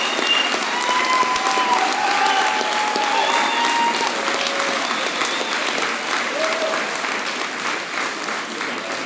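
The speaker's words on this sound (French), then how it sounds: "Bonne main d'applaudissements pour notre podium mixte U18." Audience clapping steadily for a mixed U18 podium at the closing cocktail of a raid event, a sustained round of applause with scattered voices and cheers underneath.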